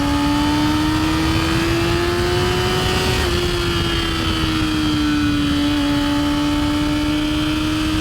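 A 600cc sport motorcycle on fresh tires cruises at an easy pace, its engine holding a steady, loud drone that rises slightly and then eases off, with wind rush throughout.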